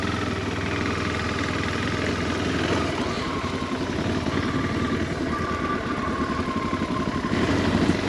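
A KTM 390 motorcycle engine drones steadily while riding on a winding road, with a constant mid-pitched hum mixed with wind rumble and no talk.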